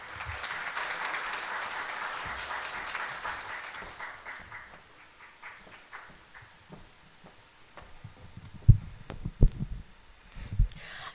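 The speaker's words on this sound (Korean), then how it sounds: "박수로 맞이해 주시기 바랍니다." Applause from attendees at a Korean financial supervisory briefing welcoming a deputy governor to the stage, a broad wash of clapping that fades over several seconds before a few louder handling knocks near the end.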